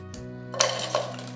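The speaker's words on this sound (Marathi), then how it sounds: "प्रथम आपण आता ह्या भांड्यात गूळ टाकून घेऊ।" Jaggery going into a metal cooking pot for sanjori makes two short clinks and clatters close by over a low steady hum.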